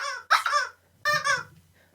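A large rubber chicken toy squeaked twice, each squeeze a loud, nasal honking squawk with a short gap between, close up and alone.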